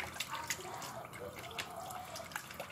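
Water poured into a pot for pasta, a light splashing trickle with drips, close and fairly quiet, no talking.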